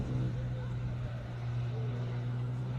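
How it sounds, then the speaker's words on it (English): A classic Jaguar drives up a Cape Town hill climb course. Its engine hums steadily at a moderate distance as a low sustained drone, with a commentator talking over it. "Jaguar gets up and continues up the hill with some confidence."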